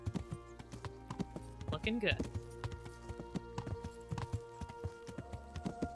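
A horse gallops in the video game Kingdom Come: Deliverance, its hooves beating a quick, steady rhythm with a brief neigh. A person talks over the hoofbeats.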